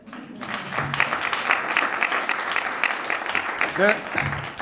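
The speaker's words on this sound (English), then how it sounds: "would you give them an applause for being here?" Audience at a STEM and innovation welcome reception applauds staff members: a room of clapping hands holds steady for several seconds, with voices talking and calling out over it.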